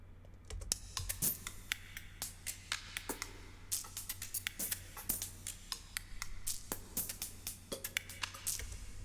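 A percussion rhythm where each note is played by a different, randomly chosen instrument sounds as quiet, sharp clicky hits at an uneven steady pace over a low hum, distant and faint, with no talking.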